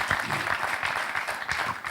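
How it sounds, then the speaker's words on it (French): Dense, steady clapping from a studio audience on a Kinshasa television talk show, loud and continuous across the short stretch with no break. "On applaudit Mombi."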